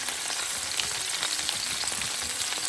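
Diced pre-grilled vegetables and sliced onions with seasoning fry in a pan, giving a steady, even sizzle close by with no voices.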